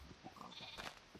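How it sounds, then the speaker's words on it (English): Sheep in the Minecraft modpack Agrarian Skies bleat softly, giving a few short, wavering calls in quick succession at low volume with no talk over them. "those sheep could use some shearing while you're down there"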